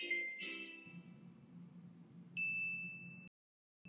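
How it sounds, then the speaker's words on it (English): A small ding sound effect, imported as a clip into Final Cut Pro, rings out as one clear sustained bell-like tone lasting about a second before cutting off, following a brief earlier chime over a faint low hum. "we're going to cut before and after the little dingy sound effect"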